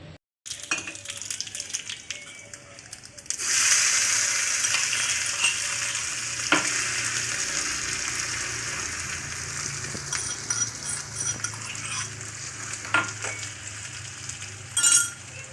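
Spices sizzle hard in hot tempering oil, a ground mix of chillies, coriander, cinnamon, cloves and small onion pieces, with a steady close crackle and a few sharp clinks of a utensil against the pan.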